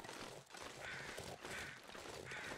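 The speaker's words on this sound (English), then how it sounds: "A lot of crows out because all the wolves has been killed." Crows caw in a video game wilderness, with three hoarse, drawn-out calls at a moderate distance over a constant noisy ambient bed.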